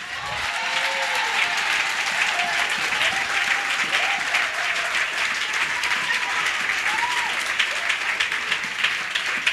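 A church congregation applauds throughout, a dense, steady clapping from many people in a large room, with faint voices and cheers mixed into the crowd noise.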